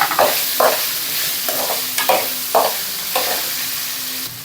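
Okra pieces stirred in a hot pan of oil, each pass of the spatula giving a rough scraping sizzle in an irregular rhythm of about six strokes over a steady close frying hiss.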